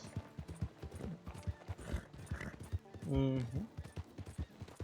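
Horse hooves clip-clop in Red Dead Redemption 2, a steady rhythmic trot running under game sounds and a speaking voice, with a brief louder burst midway.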